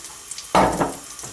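Egg-soaked bread slices drop into hot butter in a pan, setting off a sudden close sizzle that swells and then fades back to a low, steady frying hiss.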